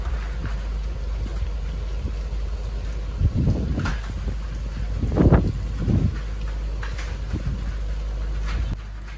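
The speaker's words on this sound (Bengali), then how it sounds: "গাছে হাওয়া এখনো হচ্ছে" Cyclone winds blow through trees in gusts, a continuous broad rushing with several louder surges swelling and fading, buffeting the microphone, with no talking.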